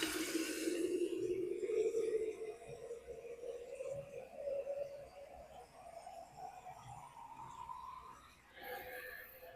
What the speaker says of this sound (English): So I'm just going to get some good old tap water and start pouring it in.